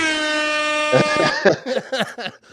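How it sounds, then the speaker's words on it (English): A loud air horn blares for about a second during a Packers pregame show, then quickly breaks into a warbling, stuttering run of honks before cutting off. "when I get excited, we hit that air horn"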